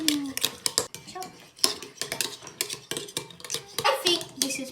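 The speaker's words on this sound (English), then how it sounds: "First, we need to do the pink sauce. I'm going to mix." A child mixes pink sauce with a utensil in a kitchen, producing repeated close clinks and scrapes of metal against a dish, with a voice speaking at moments between the stirring sounds.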